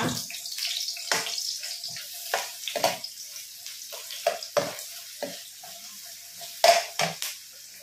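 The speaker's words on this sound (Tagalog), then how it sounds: "Lagay na natin ang ating sibuyas." Onions go into a pan for sautéed bean sprouts with sardines, giving a soft, faint sizzle under intermittent clatters and scrapes of a utensil stirring, close by and without talk.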